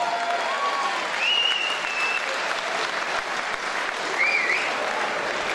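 Sustained applause from a boxing event crowd fills the space, steady clapping with a few whistles rising above it.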